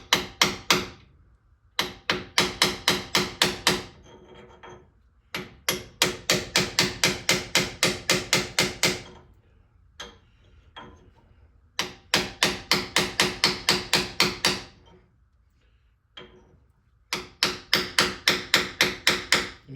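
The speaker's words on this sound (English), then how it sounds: "we're just going to tap it to a different change in tone, which means it's seated." On a 1958 Triumph TR3A, a hammer taps a seal into its seat. Close, sharp metallic taps come in four quick rhythmic bursts of about eight to ten strikes each, with brief pauses and faint knocks between them.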